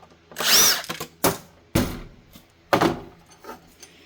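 A screw is backed out during the teardown of a ViewSonic VX2770smh-LED 27-inch LED-backlit IPS monitor. A power driver whines briefly, followed by several sharp, close clicks and knocks with short pauses between them.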